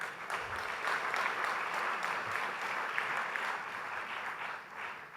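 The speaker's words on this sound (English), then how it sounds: "a loud round of applause is in order for the 18th year of" Large audience at a media and entertainment industry inauguration ceremony gives a loud, sustained round of applause, dense clapping holding steady throughout and easing slightly at the very end.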